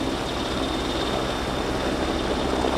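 Constant engine and rotor drone of a Portuguese Merlin search and rescue helicopter at the Royal International Air Tattoo air show, a steady loud whine with no voices over it.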